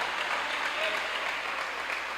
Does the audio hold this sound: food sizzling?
no